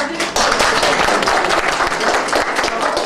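A crowd applauds steadily with dense, continuous clapping that holds at an even loudness throughout, a few voices faintly mixed in.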